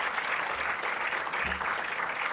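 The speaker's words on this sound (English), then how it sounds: "Another round of applause, please," An audience at an arts event gives the panellists a round of applause, a steady, full wash of clapping that carries through the whole stretch without any talking.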